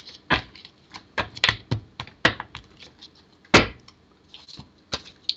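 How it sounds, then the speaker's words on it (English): A deck of cards being shuffled and handled, a run of sharp, irregular riffling snaps and taps, close and fairly loud, with brief pauses between bursts and no voices. "One more shuffle, one run through, and then I'll cut the deck."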